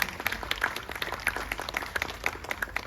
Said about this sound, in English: and a big round of applause for Sharmila Mazumdar.